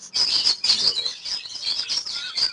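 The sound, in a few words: pet birds chirping and flying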